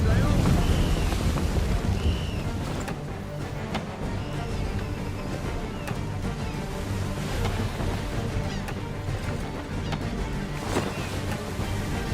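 A sailing ship in Assassin's Creed III moves through the water with a steady rush of wind, sea and creaking hull, joined by faint voices and occasional sharp knocks.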